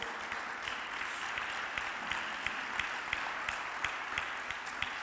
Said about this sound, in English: Please give them a very warm round of applause.